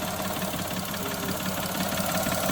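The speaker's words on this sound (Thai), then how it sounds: "นี่ติดเครื่องยนต์ ครับ" The engine of a 2014 Mitsubishi Mirage idles close by, a steady low rumbling drone with a faint regular knock, running alone without any voices.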